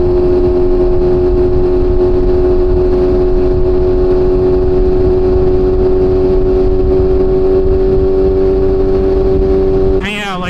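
Steady, loud engine drone from a BMW S1000RR sport motorcycle ridden through curves, a close, sustained hum that holds nearly constant until it cuts off abruptly near the end.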